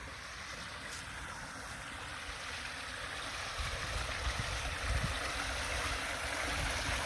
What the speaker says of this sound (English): And flowing off into the creek, which is probably more like a river today.